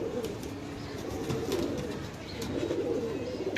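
Silver-line pigeons coo in a steady, low murmur throughout, several birds close by overlapping softly with faint chirps and no talk.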